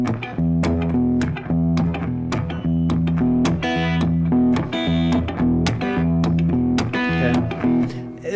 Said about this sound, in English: just go back and forth between the low E and this string instead